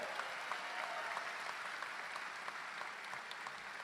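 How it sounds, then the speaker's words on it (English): Audience applause at a collegiate honor society gathering, a steady dense wash of clapping sustained throughout at moderate volume, with a few scattered cheers. "So let's give God a round of applause right now."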